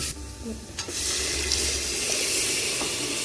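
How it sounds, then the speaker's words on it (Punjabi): Water is poured from a glass into a pot of pumpkin curry with milk, a close, rushing splash that starts after a moment and keeps flowing steadily to the end. "ਇਸ ਤੋਂ ਬਾਅਦ ਜੀ ਹੁਣ ਆਪਾਂ ਇਹਦੇ ਵਿੱਚ ਗਲਾਸ ਪਾਣੀ ਦਾ ਪਾ ਦਾਂਗੇ"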